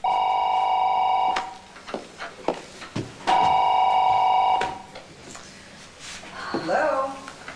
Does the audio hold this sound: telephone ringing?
yes